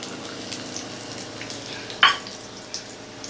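Small onions fry in sesame oil in a kadai, giving a steady, even sizzle with a single sharp clink of a utensil against the pan partway through.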